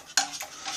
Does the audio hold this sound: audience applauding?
no